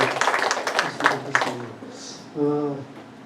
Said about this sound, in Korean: 다 같이 박수로 올려주고